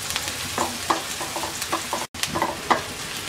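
Two chopped medium onions and five chopped garlic cloves fry in hot oil in a pan: a steady close sizzle with intermittent stirring scrapes and taps, and no voices.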